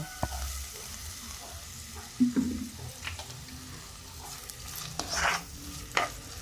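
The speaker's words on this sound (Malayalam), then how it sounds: "ഇതിലേക്ക് ഒരു ടേബിൾ സ്പൂൺ വെളിച്ചെണ്ണ ഒഴിച്ച് കൊടുക്കുക" Chopped onions fry in coconut oil in a pan, a soft sizzle under scattered scrapes and clinks of stirring, with no one talking.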